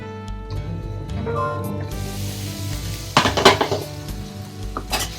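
Grated beetroot halwa cooking in a pan, a steady sizzle with stirring and metal scrapes against the pan, louder clattering bursts in the middle and toward the end.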